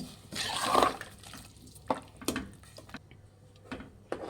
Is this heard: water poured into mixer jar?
yes